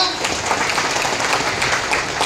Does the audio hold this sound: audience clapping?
yes